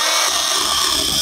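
A Worx WG349E electric pole saw cutting through a small tree branch, a steady loud mechanical whine with dense buzzing that runs unbroken through the short moment.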